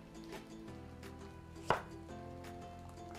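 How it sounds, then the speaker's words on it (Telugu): A knife chops an onion on a board: one sharp, close chop stands out midway, with a few fainter taps around it, over a quiet room and no speech. "ఫస్ట్ వెల్లుల్లిపాయ చాప్ చేసేసాను, తర్వాత ఉల్లిపాయ"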